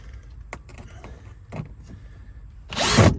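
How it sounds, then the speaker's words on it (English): A power drill driving a screw whirs in a short, loud burst with too much torque at the end, after a few light clicks and knocks from handling parts. "That was way too much torque on the drill."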